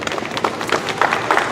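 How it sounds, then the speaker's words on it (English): Brief burst of audience applause at an equal parenting rally, a crowd clapping steadily and fairly close for a moment. "Please give me a round of applause for that."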